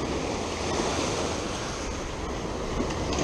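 Ocean surf breaks on a Southern California beach in a steady, broad roar of churning water mixed with wind buffeting the microphone, constant and close, with no voices.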